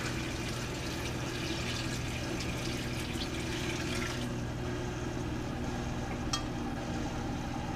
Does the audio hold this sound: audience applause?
no